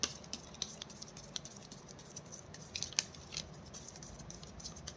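Soft, rapid crisp ticks of a deck of playing cards being shuffled, close and quiet, with a few sharper riffles standing out over faint background hiss.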